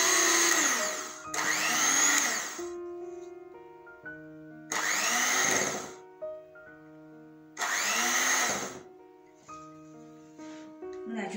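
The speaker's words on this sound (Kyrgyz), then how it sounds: "Эми ундун калганын салып миксер менен аралаштырабыз." An electric hand mixer whirs in several loud bursts while working the remaining flour into a batter for dough, stopping and starting between runs, with a voice speaking in the pauses.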